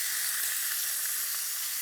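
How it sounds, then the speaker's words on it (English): Beef strips hit a smoking-hot oiled wok for stir-frying, giving a loud, steady hiss and sizzle with no break and no voices. "So in with our meat,"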